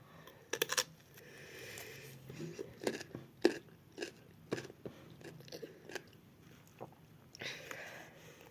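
Someone chews food topped with jalapeño hot sauce and cheese, giving close, wet, crunchy bites and mouth sounds in uneven bursts, with faint breathy noises between them.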